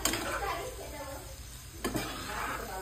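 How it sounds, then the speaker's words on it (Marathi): Dried fish (kolim) mixed in a pan while cooking, soft sizzling with scraping and stirring sounds and a sharp clink near the end, a voice murmuring faintly underneath. "एवढस कोळी टाकतो टाकते आधी मिक्स करते"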